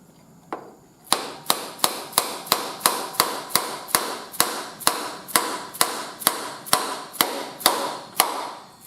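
A brass hammer strikes the front axle of a Honda CT70 Mini Trail motorcycle: one early knock, then about seventeen sharp, evenly paced metallic blows, close and loud, with no talk.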